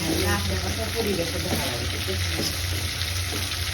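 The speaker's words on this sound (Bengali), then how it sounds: "এদিকে আমি রুটি ভেজে নিচ্ছি।" A roti fries in a lightly oiled pan, giving a continuous dense sizzle with faint scraping, steady and close throughout the short stretch, with no talking.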